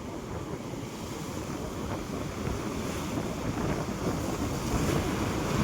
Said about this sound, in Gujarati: દરિયો ભાઈ તોફાને ચડેલો છે ને, આપણે એની મજા માણીએ છીએ.